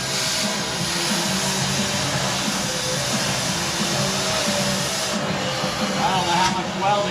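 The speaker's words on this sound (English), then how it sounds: "I torch this last exhaust mount." A cutting torch burns through an exhaust mount under a Chevy, a steady loud roaring hiss that runs unbroken for several seconds with a slight shift near the end.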